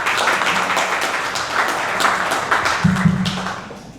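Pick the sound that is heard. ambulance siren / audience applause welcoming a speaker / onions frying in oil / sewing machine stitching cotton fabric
audience applause welcoming a speaker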